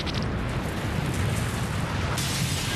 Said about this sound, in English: The force of the explosion shatters all the windows within a 3-block radius.